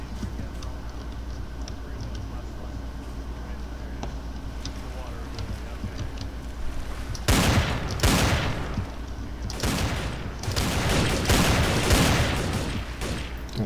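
Video game gunfire crossfire: after a quiet stretch, several loud bursts of rapid shots break out from about seven seconds on, clustered volleys and scattered cracks continuing to the end.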